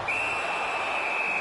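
A referee's whistle in the NHL 19 hockey game gives one steady, sustained shrill tone over a loud, constant arena crowd roar.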